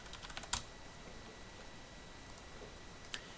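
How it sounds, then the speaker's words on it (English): Typing on a computer keyboard: a few faint, close key clicks with a sharper tap near the start and another near the end, over a steady quiet hum. "so I'll just type pulse into here."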